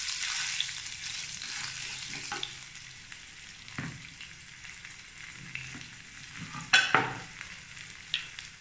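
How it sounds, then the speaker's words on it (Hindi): Cumin seeds and ginger sizzle and crackle in hot oil in a home kitchen, a steady frying hiss broken by a few louder pops and spits. "जीरा भी तड़क गया है अपना। अदरक डाल देती हूँ।"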